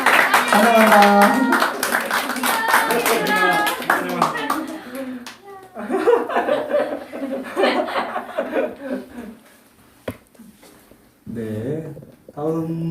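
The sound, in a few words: congregation clapping to welcome new students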